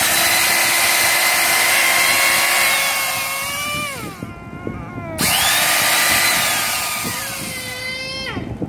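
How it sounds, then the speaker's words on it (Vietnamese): A Hitachi wall groove cutter (chaser), running on 100V and missing its dust extractor, whines at high speed, spins down to a stop around the fourth second, then restarts and revs back up, loud and close. "Máy móc rãnh ấy, chuyên móc rãnh."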